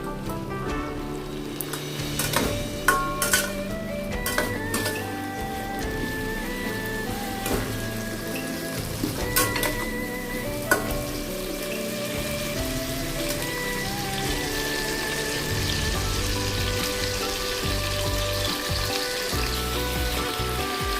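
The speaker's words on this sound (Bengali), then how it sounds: "লবণ দিয়ে আমগুলো তেলের মধ্যে কিছুক্ষণ নাড়াচাড়া করে নেব।" Mango pieces with salt stirred in hot oil for a chutney, giving a steady, close sizzle and crackle that runs throughout, with occasional scraping clatter from stirring.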